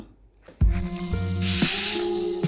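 A pressure cooker on a high gas flame, cooking jackfruit with water, lets off a loud, steady hiss of escaping steam that swells into a bright whistle, with kitchen clatter near the start and no talking.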